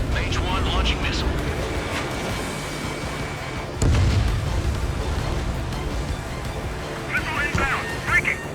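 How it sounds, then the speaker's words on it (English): Jet aircraft roar and a missile launch in the Ace Combat 7: Skies Unknown flight game, a steady loud engine drone with a sharp burst near the middle, radio chatter voices over the top. "Mage 1 launching missile."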